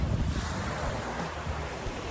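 Ocean waves and strong wind at a new resort under construction in Malahog, with dense surf wash and heavy wind buffeting the microphone, loud and continuous with no talking.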